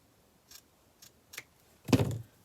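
Scissors snipping scrap paper at a craft table: three soft, quick snips followed by a louder, longer cut, close and quiet with no talking.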